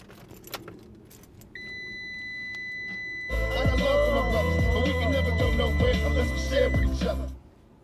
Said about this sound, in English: Let me go ahead and turn the ignition key on.